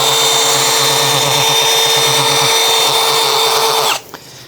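A power drill with a polishing pad whirs loudly and steadily against a car headlight lens during restoration, then winds down and stops near the end, leaving a quiet room.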